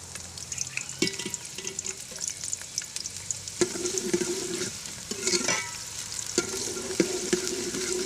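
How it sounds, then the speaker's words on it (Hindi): Onions sizzle and crackle as they fry in hot ghee for a potato and peas curry, with a constant bright hiss and repeated clanks of a spoon stirring against the pan. "अब हम इसके अंदर प्याज डालेंगे"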